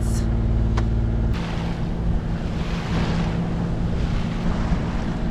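A sailing yacht motors under engine power near the Mull of Kintyre on a calm day, with a loud, steady, close engine drone mixed with wind and rushing water noise throughout.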